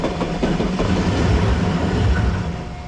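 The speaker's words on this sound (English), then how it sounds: "That's the smallest train I've ever seen." A small train in Kyoto, Japan rumbles past nearby with steady low clattering and rolling noise, continuous and fairly loud throughout.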